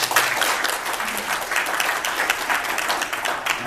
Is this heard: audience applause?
yes